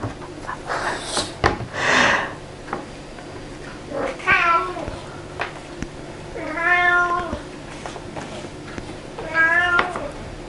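A house cat meows several times, wanting to be let outside, with drawn-out, rising and falling cries spaced a few seconds apart, close and fairly loud, with a few soft knocks between them.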